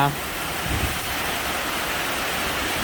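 Steady rain pours at midday over flooded rice paddies ready for transplanting, a dense continuous hiss close by with low rumbling underneath and no clear breaks.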